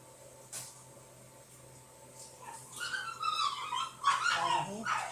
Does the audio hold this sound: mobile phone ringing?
no